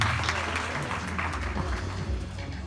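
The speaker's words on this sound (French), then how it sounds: "Que je vous demande de les applaudir." Steady applause from an audience at a televised a cappella singing competition, a dense wash of clapping that holds at an even level throughout.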